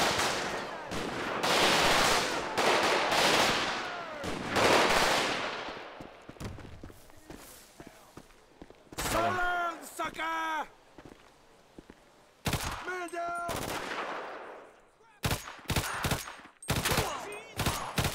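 Suppressed SMG fire in a GTA 5 zombie mod: dense, muffled rapid bursts fill the first five seconds, followed by scattered sharper shots and short volleys spaced out over the rest.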